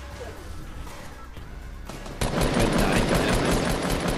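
Gunfire in Fortnite: a faint crackle of shots early on, then a loud, dense burst of rapid automatic fire that continues to the end.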